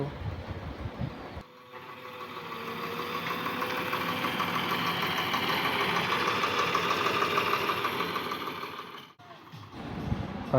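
A steady, droning tractor engine rumbles at a constant pace, moderately loud with a slight knocking, then cuts off sharply before starting up again.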